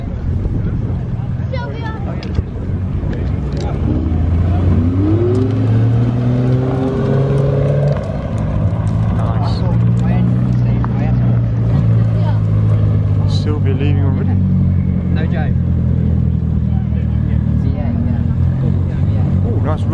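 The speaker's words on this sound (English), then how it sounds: "Racing green Audi R8." A racing green Audi R8 with a V10 engine drives past at a car meet at Haynes Motor Museum, its loud engine note rising and shifting in pitch as it goes by, with wind buffeting the microphone.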